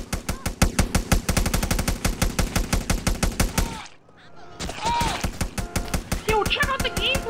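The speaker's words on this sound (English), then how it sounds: "Okay, so we gotta use that submachine gun." Rapid submachine gun fire in GTA San Andreas, loud bursts of closely spaced shots, a brief pause, then more shooting with a voice shouting over it.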